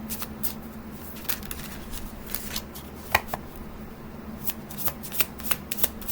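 Tarot cards shuffled by hand on a table: a steady run of quick, crisp riffling taps and soft slaps at close range, with no talking.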